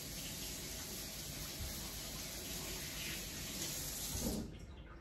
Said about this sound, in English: I'm gonna rinse my hand.